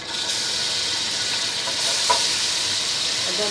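Ginger garlic paste sizzles in half a cup of hot ghee for spicy pulao, a steady, loud hiss of frying that holds evenly throughout.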